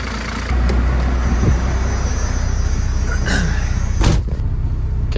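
A 1993 Dodge W350 with a 12-valve Cummins diesel idles close by with an exhaust leak at the V-band clamp, giving a steady loud rumble, with a couple of brief knocks or clunks over it.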